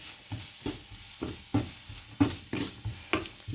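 Onions sizzle as they fry with salt in a pan, with a spoon stirring them in repeated scraping strokes about every half second, close and fairly loud over a steady frying hiss for a Kerala okra mappas.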